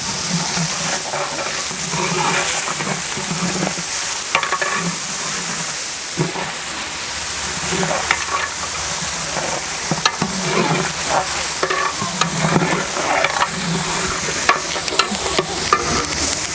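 Coconut and chopped tomatoes sautéing for mutton masala over a village wood-fired stove, a steady loud sizzle and hiss with repeated stirring scrapes throughout, no voices.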